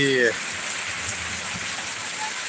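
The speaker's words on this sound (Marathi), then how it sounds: "बघा जोरदार पावसाने लावली हजेरी" Heavy monsoon rain falls in a constant, even roar, with a brief voice at the very start and then rain alone.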